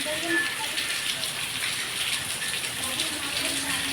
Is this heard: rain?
yes